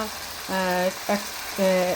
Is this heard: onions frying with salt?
yes